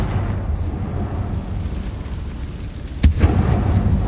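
Confringo spell explosion in Hogwarts Legacy, a single sharp blast bursting out of a low rumbling background, followed by a brief rolling boom.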